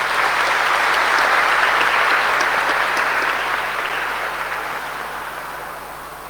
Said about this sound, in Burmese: လက်ခုပ်ဩဘာပေးကြရအောင်